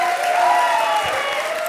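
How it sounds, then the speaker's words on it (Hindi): Studio audience at a televised comedy show clapping loudly and steadily for nearly two seconds, a dense wash of hands with faint tonal sounds running beneath. "जोरदार तालियां।"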